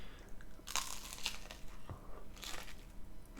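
Crisp bites and crunches into the toasted crust of a Gabila's potato knish heated in a toaster oven, a few sharp close crackles over soft chewing, fairly quiet with no talking.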